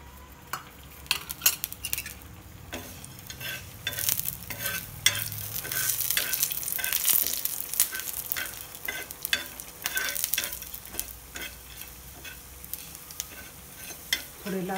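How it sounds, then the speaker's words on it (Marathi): Coriander seeds roast in a little oil in a pan, with a steady sizzle and frequent scraping clinks of a spoon stirring, close and clear, with no talk over them. "धणे भाजून घेऊ आधी। थोडंसं तेल घालायचं त्याच्यावर।"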